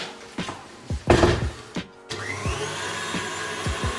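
A stand mixer whips egg whites for a lemon meringue tart, starting with a few clunks and knocks, then settling into a steady motor whir with a rhythmic beating pulse, close and fairly loud.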